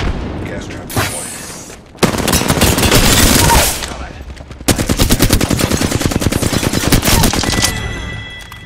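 Automatic weapon fire in the battle royale game Apex Legends, rapid bursts and sustained rattling volleys close and loud, with in-game voice lines mixed underneath.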